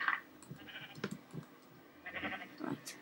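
Minecraft sheep give several short, quiet bleats in the video game, scattered over a soft background of game sounds, with no one talking.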